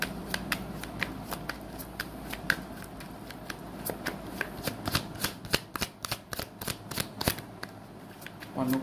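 Tarot cards being shuffled by hand, a steady run of close, crisp riffling and snapping taps that grow denser and sharper toward the end, with soft background noise and no clear speech.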